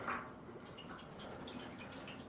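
Motor oil from a 1955 Ford's oil filter drips into a large low-profile drain pan in a garage, a soft, faint pattering of liquid against the pan with no voices.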